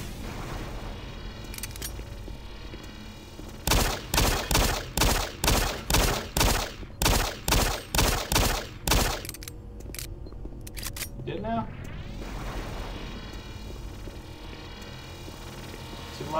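Gunfire in the video game Doom 3: a rapid series of about a dozen loud, evenly spaced shots, followed by scattered electronic game effects and ambient hum.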